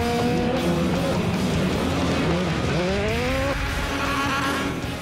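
Race cars jostling at the start of a race, engines roaring loudly and steadily while tyres squeal in rising, sliding pitches as cars lose control and spin, all in one continuous loud wash of motor noise.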